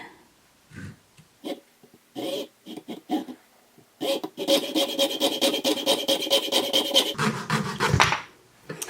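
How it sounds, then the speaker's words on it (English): A small hand saw cuts into a wooden dowel up close, first in short separate rasping strokes, then in quicker continuous back-and-forth sawing before it stops. "now I'm just going to take this little saw and just get those cuts started"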